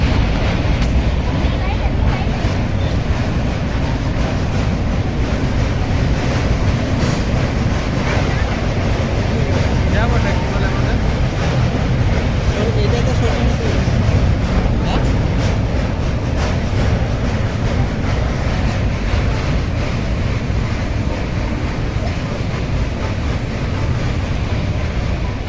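An Indian passenger train rolls along toward Lucknow, heard from inside as a loud, steady rumble and rushing wind noise with no breaks, continuous throughout.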